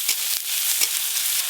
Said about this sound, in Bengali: পেঁয়াজ রসুন আর কাঁচা লঙ্কা একটু হালকা করে ভেজে নিয়েছি